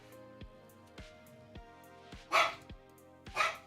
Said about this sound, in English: my puppy dogs are talking